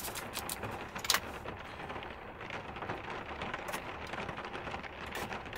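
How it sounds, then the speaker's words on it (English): Rain pattering steadily on a forest camp during a heavy storm, a soft continuous hiss with scattered nearer drops and one brief sharp clink, no voices. "I'm enjoying my coffee, just listening to the rain and just listening to the wind"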